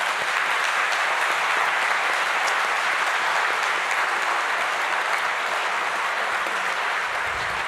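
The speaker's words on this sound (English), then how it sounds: "Please join me in a round of applause for Dr. Bung." An audience at the end of a talk claps loudly and steadily, a thick, sustained sheet of applause from many hands that barely fades before cutting off.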